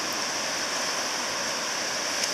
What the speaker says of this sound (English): It's a typical creek crossing.